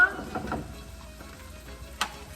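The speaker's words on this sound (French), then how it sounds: "OK, on mélange tout ça" Penne alla vodka being stirred in a pan, a soft scraping swirl at the start over a low steady sizzle, with a single sharp utensil clink near the end.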